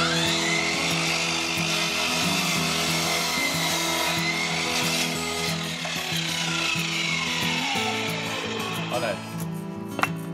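A steady, loud motorized whir of a power drill fixing parts of a hardwood deck, running throughout, with layered droning tones and scraping over a low mechanical hum.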